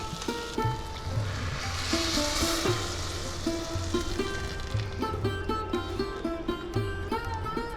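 Rice and dal frying with spices in a pan for festival khichuri, a soft continuous sizzle under a looping tonal melody of background music, fairly quiet and close.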